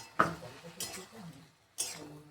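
A metal lid set down over a pan of salted susni greens, three brief clanks and scrapes of metal with quiet gaps between them, close and fairly soft.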